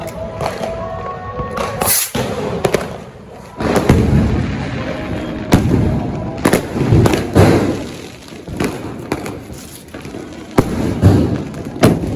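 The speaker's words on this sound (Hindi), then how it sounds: "मस्त रॉकेट" Diwali rocket fireworks and crackers go off outdoors in a string of loud, sharp booms and thuds. Crackling and whooshing bursts spread unevenly over twelve seconds and ring with a noisy, echoing backdrop.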